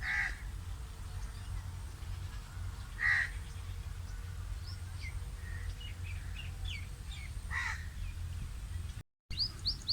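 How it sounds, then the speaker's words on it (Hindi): Crows caw and smaller birds chirp intermittently across a village wheat field beside a mango orchard, the calls moderately distant over a low steady rumble of wind or ambience. "ताज़ी हवा और ये परिंदों की आवाज़ जो है ना मुझे बहुत खूबसूरत लगती है"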